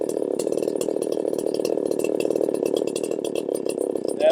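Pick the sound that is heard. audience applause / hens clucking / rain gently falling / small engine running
small engine running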